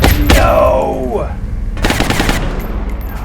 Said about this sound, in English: 2 shots in a row, both into heavy cover.